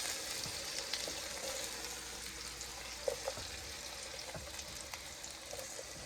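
Peppers fry in a pan for tomato soup, giving a low, steady sizzle and crackle with a few soft clinks and stirring sounds, close and fairly quiet, no talk.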